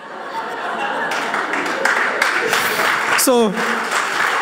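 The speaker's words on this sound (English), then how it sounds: "I'm not sure whom we are clapping for here" Audience applause at a spiritual retreat session, a steady wash of clapping with some chuckling mixed in and a voice speaking over it.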